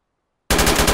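A DShK heavy machine gun opens fire in the Arma military video game, a sudden, loud burst of rapid, evenly spaced shots erupting after a moment of silence.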